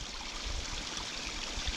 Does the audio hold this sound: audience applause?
no